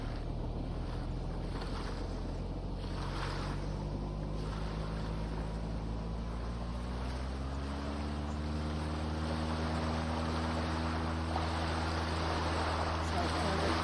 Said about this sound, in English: Smoothly apply full power.